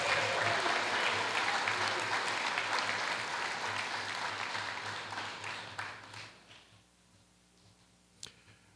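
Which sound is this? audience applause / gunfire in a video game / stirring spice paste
audience applause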